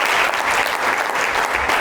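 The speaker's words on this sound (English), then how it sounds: "Let's get a round of applause for that." Brief, dense burst of audience applause during an interview with a championship gold medal boxer, close and loud clapping from a crowd with no talk over it.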